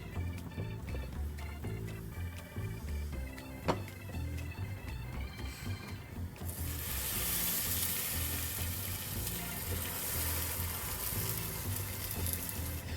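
A sandwich fries in hot, foamy butter in a pan, giving a steady sizzle that jumps to a louder, bright crackle about halfway through as it goes in, then holds strong and close.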